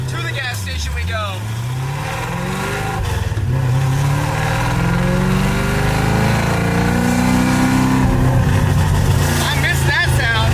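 A 1967 Ford Mustang's engine rumbles loudly as the car drives off, revs sweeping up and settling into a steady, droning run with gear changes along the way, while someone speaks over the noise.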